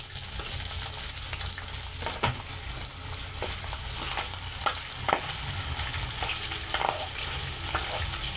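Ground meat sautés in a pan with garlic, onion and tomato for an ampalaya dish. Continuous close sizzling is broken by occasional scrapes and clinks of a stirring utensil, with no voices over it.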